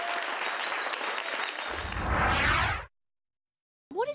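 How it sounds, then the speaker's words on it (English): An audience at a talent show claps for the finalists in steady, loud applause that swells briefly before cutting off into silence, followed by a short burst of sound at the very end. "I think everyone deserves a round of applause for that."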